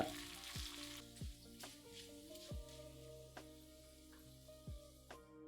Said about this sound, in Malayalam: 1/2 ടീസ്പൂൺ കടുകിട്ട് പൊട്ടിക്കുക. പിന്നെ 4 വറ്റൽമുളക്, ഒരു ചെറിയ കഷ്ണം ഇഞ്ചി ചെറുതായിട്ട് അരിഞ്ഞത്, കുറച്ച് കറിവേപ്പില, ഇത്രയിട്ട് മൂപ്പിക്കുക.